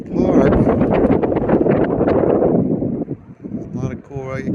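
Strong high wind buffets the microphone at Cedar Point amusement park on the Lake Erie shore, a loud, roaring gusty rush that eases near the end as a voice speaks briefly.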